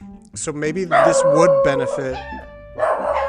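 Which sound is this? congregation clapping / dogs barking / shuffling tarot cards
dogs barking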